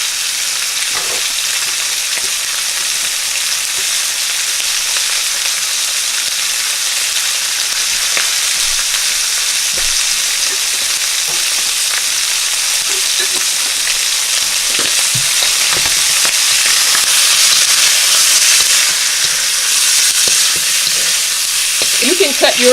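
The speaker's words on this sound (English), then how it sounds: "I'm going to put my wok on sear, because I want to sear the meat." Chunks of pork sear in a wok turned up to high heat for a stir fry, giving a dense, continuous sizzle and crackle that holds steady throughout with no talking.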